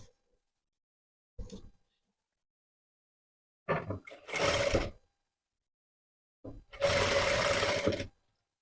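Domestic sewing machine stitching a net churidar neckline, running in short bursts of rapid whirring separated by silences, close and fairly loud, with a voice briefly talking near the start.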